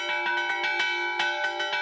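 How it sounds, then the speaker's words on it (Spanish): Two recently restored church bells at the Chipude hermitage in the village square on La Gomera ring in a quick, irregular peal of bright, clear strikes with long ringing overtones, loud and close, with no voices. "Repican las campanas en la plaza de Chipude."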